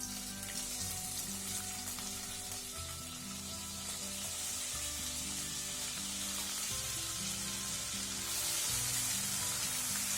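Tinned pineapple pieces sizzle and fry steadily in a pan, a continuous close crackle with occasional stirring and a brief louder hiss near the end.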